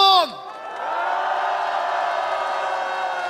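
Large crowd at a Korean political rally bursts into sustained applause and cheering, loud and steady throughout after a brief burst of voice at the start.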